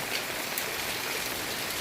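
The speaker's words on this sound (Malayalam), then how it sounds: "കേരളത്തിൽ ഒട്ടുമിക്ക ജില്ലകളിലും ശക്തമായ മഴയാണ്." Heavy monsoon rain pours down in Kerala, a dense, even hiss of drops on surfaces that holds at constant loudness throughout with no voices.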